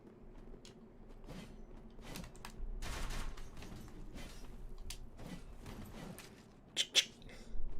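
Gunfire in the Warframe video game, a series of sharp shots and bursts scattered over fairly quiet ambience, with a couple of louder cracks near the end.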